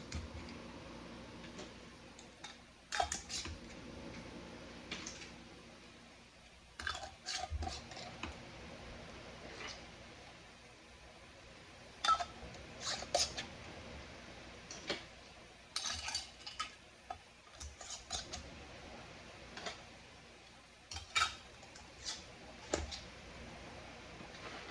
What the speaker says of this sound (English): and put your lids on.